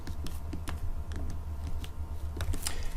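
Fingers tap on a computer keyboard during patient database entry, a quick run of light, close clicks at an uneven pace over a low steady hum.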